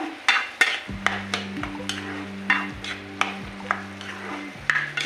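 Raw papaya khar with coriander leaves stirred in a pan, a series of close, rhythmic scraping strokes with soft clinks and a low bubbling simmer beneath, no voices.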